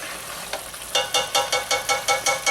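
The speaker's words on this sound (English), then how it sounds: "you want to stir it to make sure that it doesn't stick on the bottom" Rice pilaf stirred in a pan over medium heat: a steady low sizzle, then a run of regular scraping strokes about every quarter second, close and moderately loud, with no talking.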